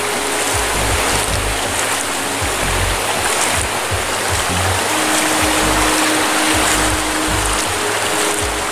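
A shallow stream at the Sernhac tunnels rushes and splashes steadily as someone wades in to wet their legs, a loud, constant broadband wash of flowing water with no talk.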